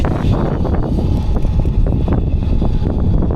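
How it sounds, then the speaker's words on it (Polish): Steady wind buffets the microphone in an open field during no-till tillage for wheat with a John Deere 7930 tractor and Kongskilde Delta Flex cultivator, a loud continuous rumbling roar. "Udało mi się go, ale wieje wiatr"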